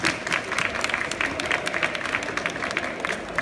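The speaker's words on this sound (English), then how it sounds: "Give him an applause" Audience applause welcoming a chef on stage at a risotto cooking demonstration, moderately distant and steady, with separate claps audible through the crowd.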